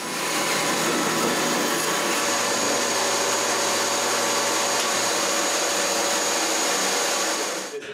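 A small power saw with a modest motor cuts through wood in a workshop saw comparison, giving a steady, loud, continuous whine and buzz for about eight seconds with no talking, then cutting off abruptly at the end.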